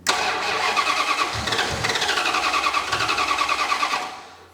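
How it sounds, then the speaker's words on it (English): A hot turbo V8 police car engine cranks continuously on its starter in a fast, even rhythm, loud and close, churning for several seconds without catching before it fades out. "It might be too hot to crank now."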